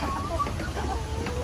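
Black Australorp chickens cluck and murmur close by in a coop in General Santos City, with several soft overlapping calls against a steady background hum.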